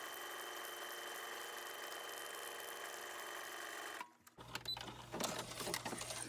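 A sewing machine runs in a steady continuous whir while stitching fabric and a magazine page together, then stops abruptly and gives way to quieter rustling and handling.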